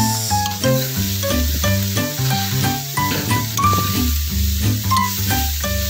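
Ginataang mixed vegetables with anchovies cook in a pan, a low steady sizzle running continuously beneath loud, tuneful background music that largely covers it.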